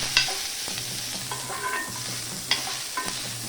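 Onions with chana dal and urad dal sautéing in a pan for chutney, a low sizzle under a few scraping stirs and soft clinks of a spoon, close by and without speech.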